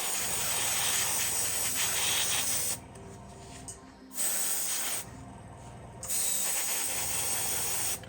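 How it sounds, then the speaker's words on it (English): An airbrush sprays school poster paint over an entire model locomotive, buffer beams included, in loud steady hissing bursts that stop and restart twice, with short quiet gaps between them. "the airbrush just makes it quicker"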